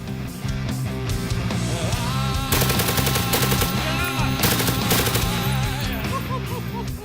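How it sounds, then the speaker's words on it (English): A machine gun fires loud, rapid bursts outdoors at a range, the rattling volleys coming in clusters over a constant rumbling background. "He's not so good with the machine gun."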